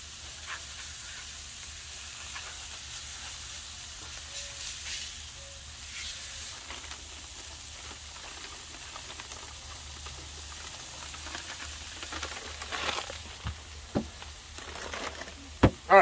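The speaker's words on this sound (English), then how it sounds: "Let's go ahead and drop those fries on there while we're doing this." Sweet potato fries fry on a Blackstone griddle with a steady sizzle and hiss. Scrapes and clacks of a spatula come toward the end, close and moderately loud.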